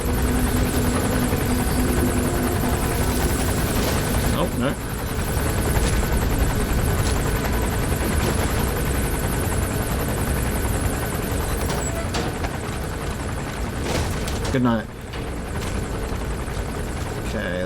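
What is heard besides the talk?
helicopter flying overhead, from video game Metal Gear Solid V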